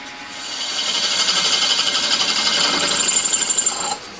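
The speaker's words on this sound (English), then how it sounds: "I'm just going to put a series of drills in the collet and drill it out" A drill bit held in a mini lathe collet bores out the head of a bolt, giving a steady, close, high-pitched machining whine with a grinding edge for about four seconds before it stops abruptly.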